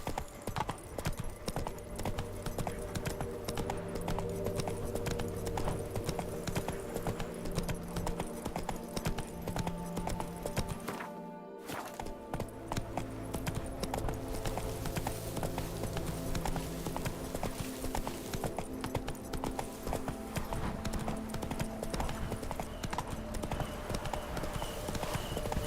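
In The Witcher 3, the horse Roach gallops with rapid, continuous clip-clop hoofbeats over a game music bed, broken by a brief silent gap midway before the hooves resume.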